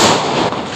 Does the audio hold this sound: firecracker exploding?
yes